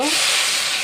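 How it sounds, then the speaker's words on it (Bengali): Hot water poured into rice frying for pulao gives a loud, close, sharp burst of hissing steam lasting under a second. "দিয়ে দিব গরম পানি"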